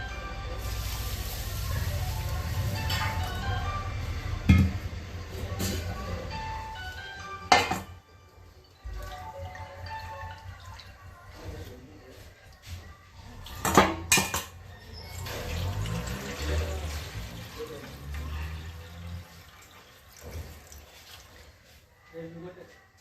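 Rice being washed in water in a metal pot, with steady clinking and scraping of the pot and utensils and swirling water, interrupted by a few sharp clanks, while a person talks over it.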